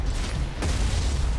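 An EMP blast goes off in the VR mech game Archangel Hellfire: a sudden loud, broadband burst about halfway through, landing over a steady rumble of battle noise and engine drone.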